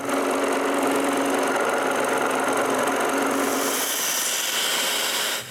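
A scroll saw cuts through wood while shaping wooden candy bowls, a steady, loud buzzing rasp that runs without a break and eases off near the end.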